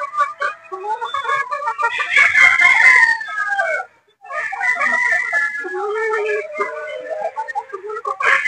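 Gamefowl roosters, 3/4 Sweater and Boston Roundhead, crow repeatedly and cluck close by in a busy overlapping chorus with a brief pause midway, with no clear talk.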